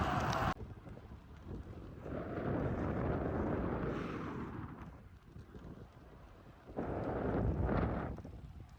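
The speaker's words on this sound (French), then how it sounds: "Là, je pars vent de face." Headwind rushing past a microphone while cycling on a road at about 10 km/h, a loud buffeting roar that swells and fades in gusts, close and without talk.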